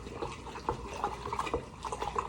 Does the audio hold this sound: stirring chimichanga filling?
yes